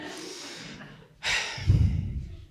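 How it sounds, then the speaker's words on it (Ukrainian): Close, heavy breathing: a long exhale, then a sharp intake and a loud, rough panting breath out. "Задишка, бачите?"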